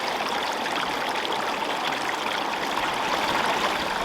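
Clear creek water rushing steadily over rapids below a dam, a dense continuous outdoor flow with no voices.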